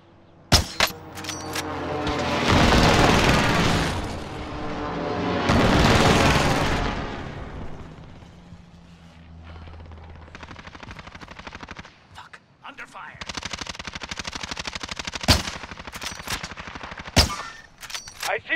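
Call of Duty Modern Warfare combat: loud incoming explosions roar in long booming swells, followed by rapid machine-gun bursts and sharp single shots, with voices talking.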